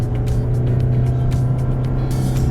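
A Toyota Corolla accelerates with the pedal floored, its engine droning loud and steady from inside the cabin, with a low continuous hum and road noise.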